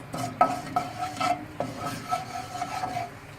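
Mustard seeds, cumin and dried curry leaves crackle and sizzle in oil over a low flame, with a spoon stirring and scraping the pan in short strokes, close and fairly loud, no voices.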